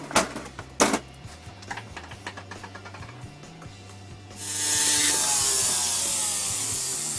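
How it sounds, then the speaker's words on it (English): A tool cutting an old tube off a piece of jewelry during repair, a few sharp clicks and light scraping at close range followed by a steady hissing rush, with no talking. "cut the old tube off"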